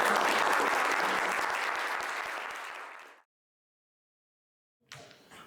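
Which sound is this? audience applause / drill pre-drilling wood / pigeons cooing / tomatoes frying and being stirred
audience applause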